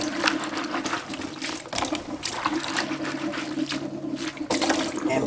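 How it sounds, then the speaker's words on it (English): Water poured off rinsed sea moss splashes steadily into a sink, a continuous running, slightly gurgling pour lasting several seconds, close and moderately loud with no talking. "and pouring the water off."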